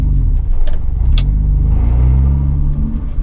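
A manual car pulls away uphill as the clutch bites and the e-brake is released, its engine loud and close, a steady rising rumble under light revving.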